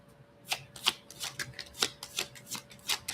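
Tarot cards being shuffled by hand, a close run of crisp riffling bursts coming roughly twice a second in an uneven rhythm.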